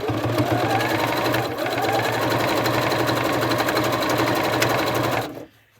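A sewing machine runs steadily up close, top stitching dog collar webbing at a long stitch length, its fast even whir continuing for several seconds before stopping abruptly.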